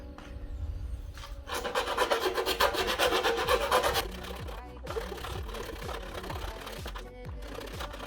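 Rapid rasping strokes of a hand file working a part for a hands-free sanitizer dispenser, a dense scraping burst that gives way to a quicker run of short rhythmic strokes, close and fairly loud.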